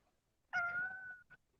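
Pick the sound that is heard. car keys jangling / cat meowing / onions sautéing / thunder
cat meowing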